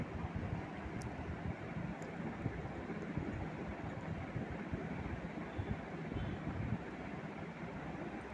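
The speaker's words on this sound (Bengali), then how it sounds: "আমি তেলে পাকোড়াগুলোকে দিয়ে দুই পিঠ লাল লাল করে সুন্দর করে ভেজে নেব" Potato pakoras fry in hot oil with a steady, dense sizzle and crackle heard close up, continuous throughout with no talking.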